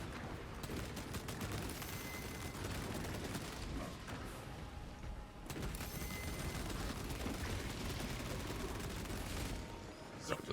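Heavy bolter in a Warhammer game pouring sustained automatic fire into Tyranid hordes, a dense, continuous rattle of rapid shots with booming impacts, steady and loud throughout with a brief dip midway.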